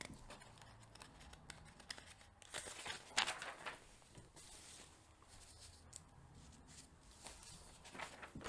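Faint crinkling and rustling as a sheet of paper is handled, with scattered soft crackles and one sharper crisp rustle in the middle, close and quiet with no talking.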